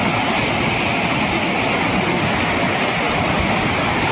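The Van Lakshmi waterfall at Vangani West roars loud and close, its rushing water a dense, unbroken wash of noise with no voices over it.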